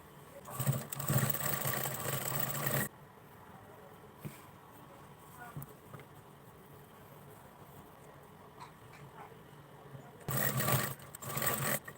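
A sewing machine stitches a blouse shoulder seam in two loud, steady runs, one at the start and one near the end, with a quiet gap of faint handling noise between them.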